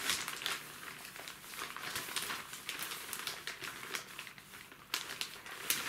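A plastic bag rustles and crinkles steadily as hands rummage through it, fairly close and fairly quiet, with no talk.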